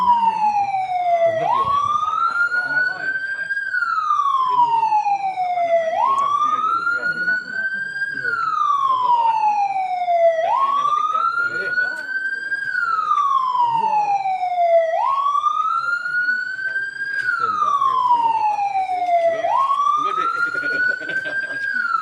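At an andesite mine before blasting, a loud warning siren wails in slow, repeating rising-and-falling cycles, steady and close for the whole stretch, with faint talk beneath.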